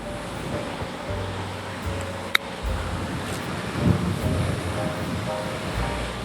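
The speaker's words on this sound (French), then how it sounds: "Le vent qui se met à souffler par rafale." Gusty wind blows across a golf course, a continuous broad roar that swells and eases, with one sharp click partway through and a stronger gust near the middle, and no talking.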